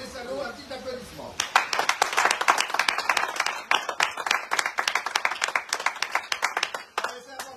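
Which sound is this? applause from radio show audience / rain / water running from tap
applause from radio show audience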